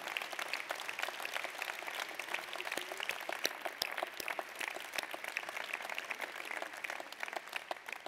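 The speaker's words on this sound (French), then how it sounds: "Je propose qu'on leur fasse une ovation pour leur travail et pour ce qu'ils représentent" An audience at a New Year's greetings ceremony gives an ovation to two young artists, with steady, dense applause from a large crowd that holds for the whole stretch without any talk.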